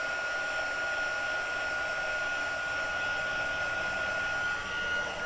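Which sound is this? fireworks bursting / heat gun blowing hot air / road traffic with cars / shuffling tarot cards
heat gun blowing hot air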